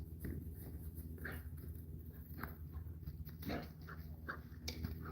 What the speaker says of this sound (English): Got our vicious attack dogs.